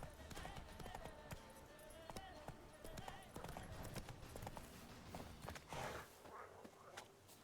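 Roach the horse trots along in The Witcher 3: Hearts of Stone, its hooves clip-clopping steadily and close on the ground throughout, with faint whispery sounds under the hoofbeats.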